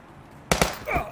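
A flashbang grenade goes off in the police tactical video game Police Stories: two sharp, loud bangs in quick succession after a quiet lead-in, followed by a brief ringing, rattling tail.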